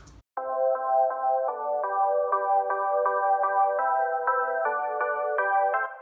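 Bright synth chords from the Nexus preset "Blue Chords" pulse in a steady repeating rhythm, each stab short and even, with a swirling phaser shimmer, clear and alone.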